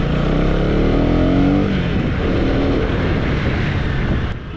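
A Husqvarna Vitpilen 250 motorcycle engine runs steadily while riding, loud and close, with rising and falling tones as the revs climb and ease, then a brief drop near the end.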